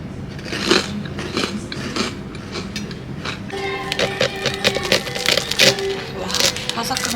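Crispy fried food being bitten and chewed close to the mic, with brittle crunchy crackles that grow denser toward the end; a voice talks briefly in the background.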